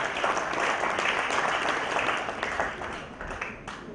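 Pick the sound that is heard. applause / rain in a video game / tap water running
applause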